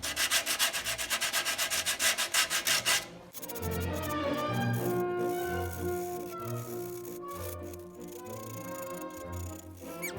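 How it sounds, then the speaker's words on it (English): Rhythmic back-and-forth strokes of sanding on the freshly cut steel deck of a 195cc Tecumseh brush mower, fast and even at first, then slower, rasping passes close by. "While this is like this, I can sand this."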